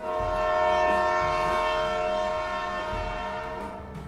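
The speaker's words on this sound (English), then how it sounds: "As the train chugged off from the station, everyone shook hands for a final goodbye." A train pulls away from a station at the start of a 2013 Everest and Lhotse expedition, its horn sounding loud and sustained over the rumble and clatter of the carriages. The sound fades slightly toward the end.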